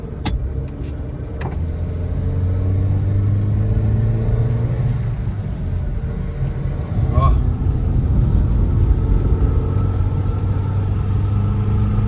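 A Skoda car with a non-turbo engine climbs a steep incline, its engine holding a steady loud drone with a slight rise partway through and someone talking over it.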